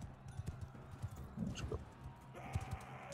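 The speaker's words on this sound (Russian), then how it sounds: "Стой, лошадка." Horse hooves clip-clopping in the video game Mount & Blade II: Bannerlord, a steady close trotting rhythm with a brief neigh-like sound midway and a faint background of game noise.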